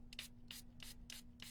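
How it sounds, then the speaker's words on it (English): Water sprayed in five short hissing bursts from a spray bottle onto a rubber craft stamp, evenly spaced and fairly quiet, over a steady low electrical hum. "So by cleaning it is as simple as, is that full? Yeah. As simple as just spraying water"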